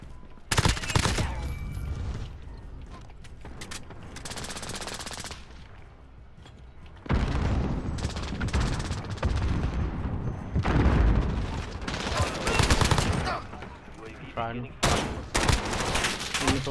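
Dense bursts of automatic gunfire and explosions fill an online shooter match, loud and nearly continuous with brief lulls, while players talk over it.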